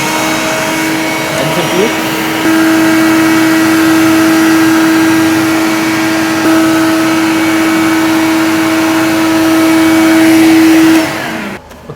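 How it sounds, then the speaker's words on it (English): A vacuum pump on a ShopBot CNC machine hums steadily and loudly for about nine seconds after switching on, then cuts off near the end, with a brief voice at the start. "Then one of you will use a vacuum pump. Turn this on"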